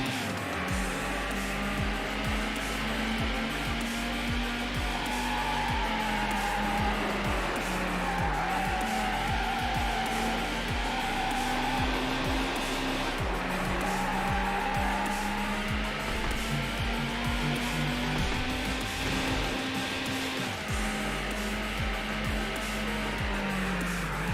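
In Need For Speed Hot Pursuit 2, a supercar slides into oversteer with a long, wavering tire squeal over a constant engine drone. The squeal rises and falls repeatedly through the run, and no voices are heard.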